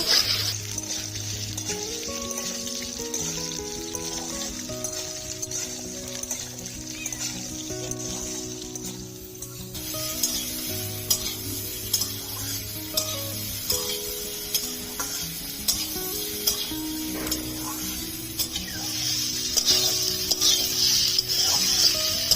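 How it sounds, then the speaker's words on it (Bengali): Potato, eggplant and radish frying in a pan for a vegetarian spinach curry, with steady sizzling and occasional stirring scrapes under faint background music. "দিয়ে দেবো কেটে রাখা আলু, বেগুন আর মূলো দিয়ে দেবো,"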